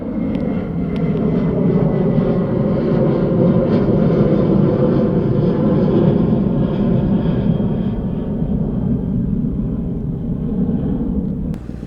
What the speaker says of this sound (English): Got a nice view of the airplane though.